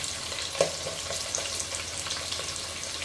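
Onion tossed into a pan already holding green chillies, frying with a soft steady sizzle and a brief clink near the start, close by, with no voices over the short stretch.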